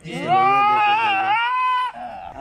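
A male goat bleats loudly during castration, one long wavering cry held for nearly two seconds and then a shorter, weaker bleat, close to the listener with no talk over it.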